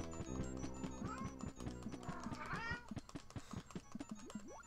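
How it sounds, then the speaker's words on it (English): A pet cat meows a few times, its drawn-out, rising cries mixed in with bouncy video game music. "My cat's meowing like crazy for whatever reason."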